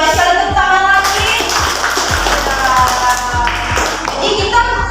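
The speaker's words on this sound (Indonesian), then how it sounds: "Iya, baik sekali, tepuk tangan lagi." Elementary school class clapping hands together in a rhythmic classroom cheer, regular repeated claps under children's voices and talk.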